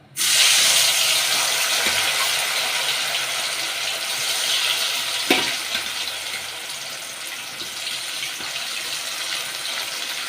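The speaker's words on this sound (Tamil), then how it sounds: "இப்போ வாழைக்காய் வந்து நம்ம எண்ணெயில் போட்டுக்கலாம்" Raw banana slices slide into hot oil and fry with a loud, continuous hiss that holds steady throughout, with a brief crackle burst midway.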